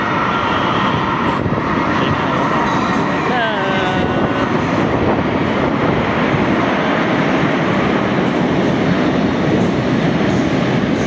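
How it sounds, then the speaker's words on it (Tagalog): A train rumbles in steadily with a loud, continuous roar and faint squealing, heard close by on a busy platform. "May tren na, may tren na."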